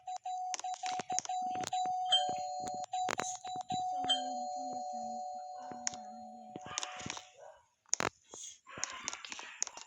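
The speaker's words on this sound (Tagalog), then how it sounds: "And then may nagdo-doorbell." A doorbell chimes at a home with sustained, ringing tones, followed by more rings and clicks. People talk softly around and after the bells.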